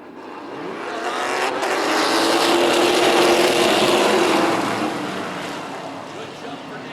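Race cars led by Nick Hinckley and Charlie Colby roar away at the start of a race, a loud engine surge that builds, peaks and then fades slightly as they pull away.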